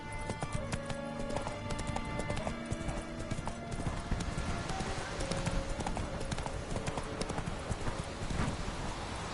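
Horse hooves clip-clopping steadily in The Witcher III video game, a continuous rhythmic trot on hard ground with a soft ambient bed and no talking.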